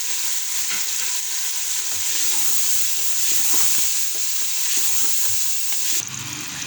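Black chickpeas roast in a pan with green chillies, crushed coriander and cumin, sizzling and frying steadily while being stirred, with a continuous close hiss and soft scraping throughout.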